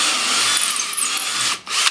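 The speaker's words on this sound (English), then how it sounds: "I drill the hole with that." A power drill bores a hole in wood for a 1/4-20 bolt, a steady loud whirring grind running almost continuously, then a brief drop near the end before the motor surges back up.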